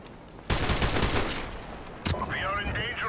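Video game gunfire rattles in dense, overlapping volleys like massed rifles and machine guns, loud and sustained, followed by a sharp report and a rising, wavering whine.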